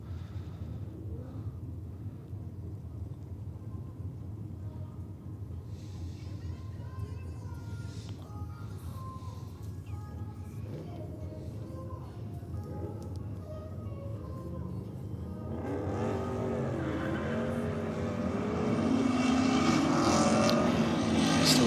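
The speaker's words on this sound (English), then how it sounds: "Trademark burnout there." Drag racing car doing a burnout at a Race 4 Real event, a steady engine roar building louder toward the end with tire and exhaust noise, under a commentator's talk.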